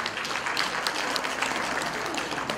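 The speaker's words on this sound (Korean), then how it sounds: "여러분 좀 더 건강하시게 박수 한번 쳐주세요" Audience at a community event breaks into steady, sustained applause, a dense wash of many hands clapping at close range without pause and no clear talking over it.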